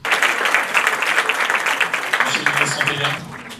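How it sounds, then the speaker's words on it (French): Audience at a press conference applauding, a dense burst of many hands clapping steadily before tapering off near the end. "Ces applaudissements marquent donc le clap de fin."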